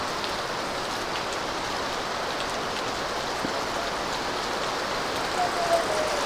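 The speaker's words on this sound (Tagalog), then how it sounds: "Yan na, makikita nyo, lakas ng ulan." Heavy typhoon rain pours in a steady, dense hiss across the whole stretch, loud and unbroken, with no voices over it.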